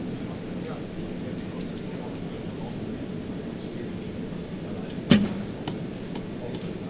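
An arrow strikes the target at a women's recurve archery bronze final, a single sharp thud about two-thirds through, heard over a low steady outdoor background hum.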